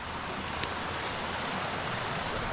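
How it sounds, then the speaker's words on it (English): A fast-flowing creek beside a snowy winter campsite rushes in a dense, continuous wash, close and steady throughout. "So this is a little creek we got down here. It is idyllic. It's flowing really fast right now."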